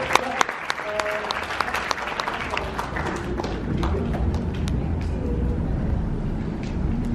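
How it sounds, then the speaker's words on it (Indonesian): Sustained audience applause at the IDEAFEST 2019 event honouring Mbak Imelda, a dense steady wash of clapping from a large crowd with a few sharper claps near the start, continuing throughout without talk. "Tepuk tangan lagi nih buat Mbak Imelda"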